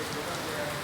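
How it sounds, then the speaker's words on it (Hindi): Heavy rain pours down in the Transport Nagar area of Lucknow during stormy, windy weather, a steady dense hiss of drops on surfaces that holds an even loudness throughout the short stretch, with no clear voices over it. "तेज़ी से बारिश होने लगी, बहुत तेज़ हो रही है बारिश।"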